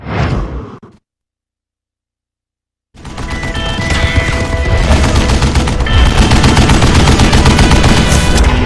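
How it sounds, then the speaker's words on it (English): A Gatling gun in the video game Call of Juarez Gunslinger fires a long, rapid, continuous burst of loud gunfire after a short blast and a silent gap, staying dense and unbroken to the end. "Kid Curry opened up on me with a goddamn Gatling gun"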